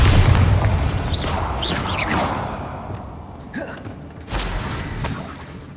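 Bombarda blasting spell in Hogwarts Legacy explodes with a heavy boom followed by shattering debris and whooshes, then a second rumbling burst a few seconds later.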